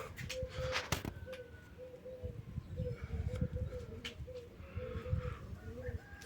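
Pigeons coo repeatedly in low, soft calls around a loft where birds are being flown, faint and a little distant, with light background noise and occasional voices.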